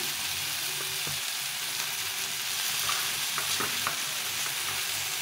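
Vegetables with cauliflower stems and turmeric fry in a pan, giving a continuous close sizzle broken by brief scraping stirs and a few light knocks partway through.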